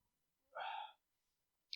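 A single short burp lasting about half a second, close and fairly soft, followed by a brief click, with no talking.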